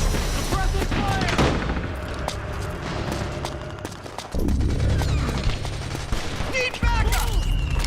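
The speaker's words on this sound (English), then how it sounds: "Suppressing fire!" Metal Gear Solid 4 suppressing fire at a compound: dense, loud bursts of automatic gunfire and single shots overlapping nonstop, with heavier booms and a voice shouting over the fight.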